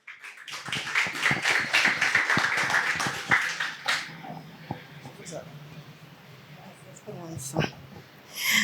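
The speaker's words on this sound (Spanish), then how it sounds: "Así que también la recibimos con un aplauso a nuestra profesora." An audience at a university inaugural lecture claps to welcome a professor in a short burst of close, sharp claps that thins out after a few seconds into quiet room sound, with speech heard alongside.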